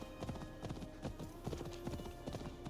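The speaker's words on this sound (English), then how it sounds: "But man, horses sound weird." Hooves of a horse in an Assassin's Creed video game clip-clop in a steady, rhythmic gait, loud and close over a continuous background rumble.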